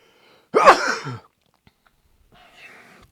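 One loud, close sneeze bursts out, followed by silence and then a faint breathy sound.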